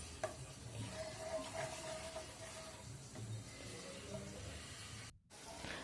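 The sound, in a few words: jaggery syrup boiling in a pan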